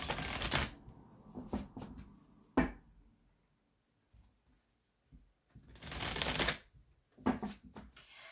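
Oracle cards being shuffled in a tarot-style reading, with bursts of riffling and rustling separated by quiet pauses and a couple of sharp card taps, close and moderately loud.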